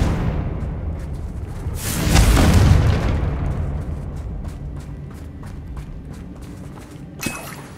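A Confringo spell explosion in Hogwarts Legacy lands as a deep rumbling boom that swells and fades over a few seconds amid a busy bed of game effects, with a small sharp burst near the end.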